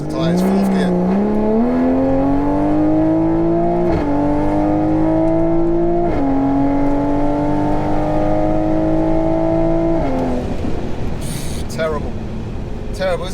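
A 760hp stage 3 Toyota Supra roars loud and close down a drag strip, its engine note climbing steadily through the gears with brief dips at each shift, then cutting off into tyre and ambient noise near the end.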